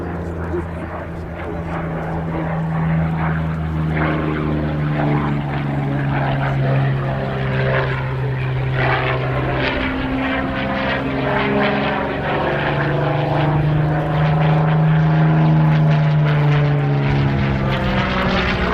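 A Curtiss P-40C Warhawk (Tomahawk IIB) propeller fighter flies past at an airshow, its engine drone rising and falling steadily with shifting pitch, loud and sustained throughout while someone speaks over it.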